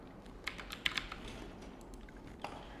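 Keys on a computer keyboard tapped in short, sparse bursts while a Scratch coding project is built, quiet and close with brief pauses between strokes.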